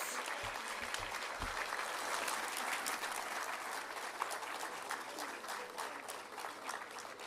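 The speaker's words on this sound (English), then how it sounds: "Let's continue giving Her Excellency a round of applause." Sustained audience applause for the President at a national development plan launch and address, a steady dense wash of clapping throughout with a few low thumps early on.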